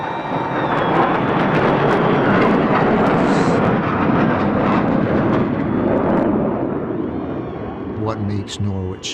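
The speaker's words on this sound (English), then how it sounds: "get ready for the B-2 stealth bomber." A B-2 stealth bomber passes overhead with a loud, sustained, broad roar that swells and then slowly fades, and voices speak briefly near the end.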